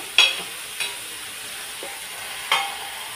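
Chili thecha sizzles softly in oil in a pan, a faint steady fry broken by a few sharp scraping stirs of a spoon spaced out over the stretch.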